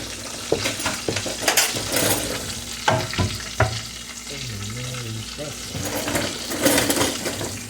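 Potato bombs sizzle and fry in a pan while a spatula stirs and scrapes through them, with repeated clinks and knocks over the steady crackle and a voice murmuring briefly now and then.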